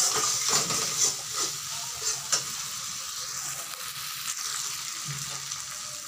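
Spice masala being stir-fried in a pan for a Bengali-style potato curry (alur dum), with a steady close sizzle and repeated spoon scrapes and stirs throughout, with no talking.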